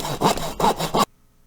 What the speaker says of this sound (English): I have to cut that extra inch of wood off the bottom